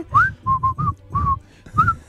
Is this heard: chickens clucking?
no